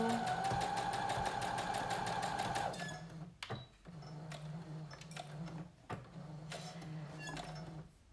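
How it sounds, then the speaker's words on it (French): A domestic sewing machine stitches the side seams of a skirt, its needle hammering in a fast steady rhythm for the first few seconds, then running on in a lower, quieter whir broken by short pauses between bursts of stitching. "On vient de coudre tous les côtés de la jupe."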